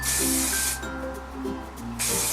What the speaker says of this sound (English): I'm going to go ahead and just spray everything again